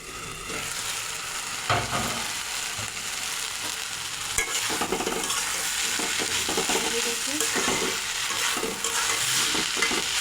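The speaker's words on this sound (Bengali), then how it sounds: "এখন মশলার সঙ্গে মিলিয়ে নেব।" Banana flower and fish head curry being stirred with spices in a pan, a continuous sizzle with repeated scraping strokes of the spoon, close and steady, without speech.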